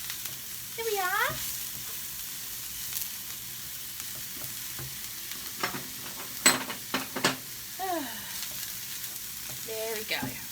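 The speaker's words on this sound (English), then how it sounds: "Can we give these a bit of a stir, shall we?" Mushroom and bean burgers fry in a pan, a soft steady sizzle under scattered clattering stirs and knocks of a utensil, with a few faint voice-like sounds between.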